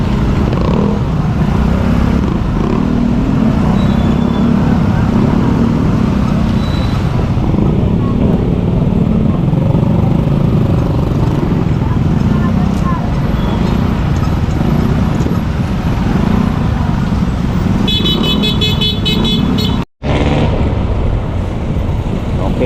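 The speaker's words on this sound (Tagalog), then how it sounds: "Traffic." Busy city road traffic on the way to Malabon City Square, Philippines, a dense continuous rumble of engines with occasional higher tones, under steady nearby talk, with a brief cut near the end.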